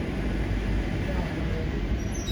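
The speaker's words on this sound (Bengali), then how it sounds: "ট্রেন এখন নিউ ফারাক্কা জাংশনে এসে পৌঁছেছে" A passenger train pulling into New Farakka Junction heard from inside the carriage: a continuous low rumble and rattle, steady and close, with no clear voices.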